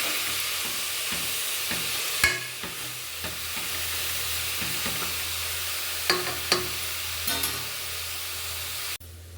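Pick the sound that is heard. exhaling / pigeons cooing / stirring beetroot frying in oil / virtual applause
stirring beetroot frying in oil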